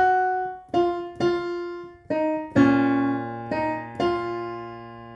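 Solo piano plays a slow, simple chorus phrase from a song: about seven separate notes and chords, each struck clearly and left to ring, heard close with no voices.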